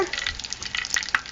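Mozzarella bites frying in moderately hot oil, a short burst of close crackling sizzle with a few sharper pops.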